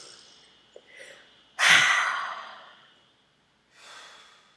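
A forceful breath pushed out through the mouth as part of a yoga breathing exercise, with a loud broad rush after a faint inhale, then a softer second exhale; nobody speaks.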